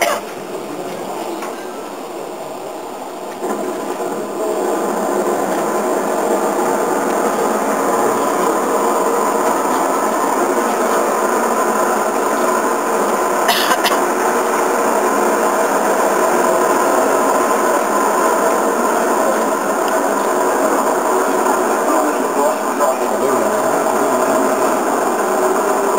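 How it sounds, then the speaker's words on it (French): An Ariane 5 ECA rocket lifts off on flight V-190 with a sustained, loud, rumbling roar that builds slightly after the first few seconds and holds steady, heard from a distance without talk. "Décollage d'Ariane 5, très puissant."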